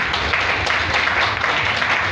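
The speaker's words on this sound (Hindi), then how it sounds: "एक बार ताली होनी चाहिए जबरदस्त" An audience at a company sales meeting applauds in a dense, continuous patter of many hands clapping, loud and sustained throughout.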